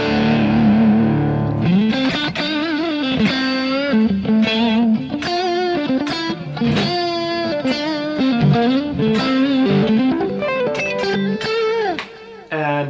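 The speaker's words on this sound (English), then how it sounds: "The clean sound, or the clean-ish sound without the pedal, sounds like this." A lightly driven electric guitar through a Kemper clean-ish tone without the pedal plays a lively riff of chords and single notes, bright and slightly gritty with a touch of room echo.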